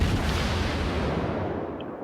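Warship main guns firing high-explosive rounds in the naval game World of Warships, a dense rumbling boom with a long, continuous low roar that fades toward the end.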